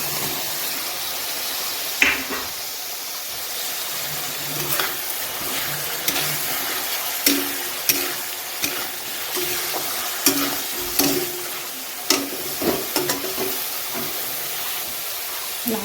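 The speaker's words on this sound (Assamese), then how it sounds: "আলুখিনি এতিয়া মকতে দি দিওঁ।" Potatoes frying in a pan of hot oil, a bright continuous sizzle with repeated clacking stirs and scrapes of a utensil at a steady pace, close and fairly loud.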